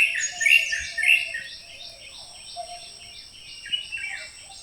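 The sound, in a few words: various birds singing near the Kabini river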